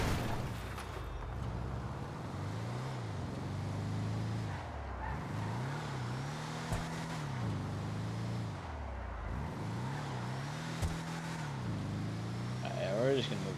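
A Bravado Youga Classic 4x4 van drifts in GTA Online, its engine droning in long rising and falling revs that swell and dip in repeated cycles, with faint tire noise and a voice talking over it throughout.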